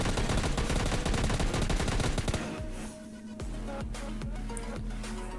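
Rapid bursts of automatic gunfire rattle in PUBG Mobile Lite, a dense loud volley for about two and a half seconds, then a brief lull followed by sparser, evenly spaced shots.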